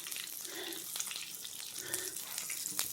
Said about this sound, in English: I'm frying up that tilapia.